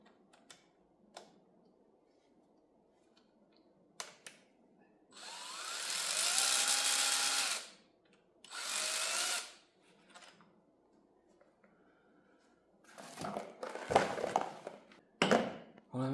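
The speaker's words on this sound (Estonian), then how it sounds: "eemaldama peab siis kõik Torx 40 peaga poldid, mida siin on juhendi järgi 19 tükki, nii et anname ka poldi keerajale" A power driver whirs in two short bursts, a longer one then a briefer one, spinning out Torx 40 bolts from an Audi automatic gearbox amid scattered clicks, clunks and tool handling in a quiet workshop.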